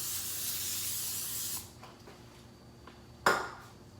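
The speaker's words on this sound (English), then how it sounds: "then I'll put a little non-stick spray" Non-stick cooking spray hisses onto wax paper in a long steady burst, then a quieter pause and a short sharp spritz near the end, close and clear with no talking.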